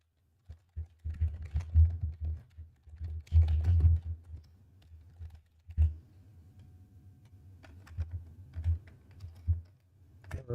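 Someone types on a computer keyboard in irregular bursts of close, crisp key clicks with short pauses between them. The typing is heard alone, with no talking.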